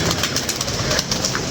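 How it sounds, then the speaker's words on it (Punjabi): Pigeons feed on scattered grain, soft cooing and wing flutters mixed with pecking over a steady outdoor background, no talking. "ਕਬੂਤਰ ਦਾਣਾ ਹੀ ਖਾ ਰਹੇ"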